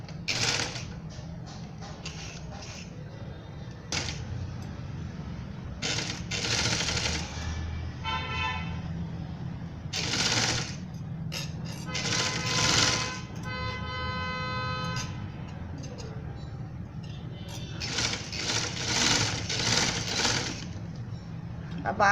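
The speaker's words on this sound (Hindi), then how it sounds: "पहले आपने नेक लाइन में सिलाई लगानी है" Sewing machine stitching the neckline of a baby party dress, bursts of rapid mechanical whirring in stops and starts, over a constant low hum, with someone talking in between.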